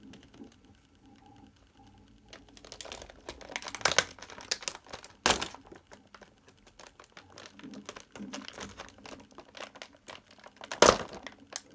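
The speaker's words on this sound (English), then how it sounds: "So I am able to cut them with this knife." A knife cuts through plastic toy packaging from new Teenage Mutant Ninja Turtles four-packs, heard as close crinkling, scraping and snapping of plastic in irregular bursts with a few sharp cracks.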